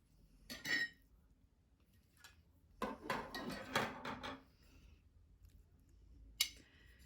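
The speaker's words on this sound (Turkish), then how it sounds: "Şimdi sizler için şöyle bir dilim tabağıma alacağım" A slice of soda-made börek being lifted onto a plate brings a few sharp metallic clinks and scrapes of a utensil against the dish, spaced out in short bursts with quiet gaps between them.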